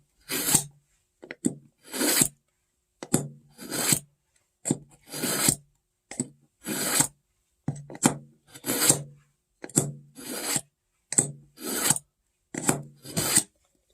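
A kitchen knife drawn repeatedly through the fine side of a pull-through sharpener, giving about fifteen evenly spaced rasping strokes, each a short bright scrape, close and clear with no talking.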